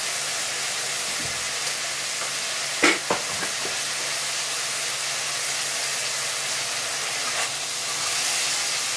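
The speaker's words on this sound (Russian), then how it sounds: "Пока овощи обжариваются" Vegetables fry for a Chinese soup in a hot pan, a steady broad sizzle holding at an even level throughout, with a couple of brief utensil knocks and stirring scrapes near the start.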